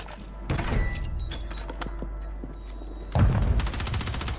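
In Rebirth Island, a video game, a grenade explodes as a loud boom, followed by scattered gunfire and thuds and then a second heavy blast, with no talking over it.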